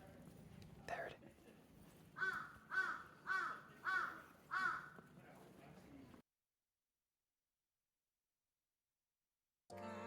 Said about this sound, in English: I want you guys to hear what crows sound like.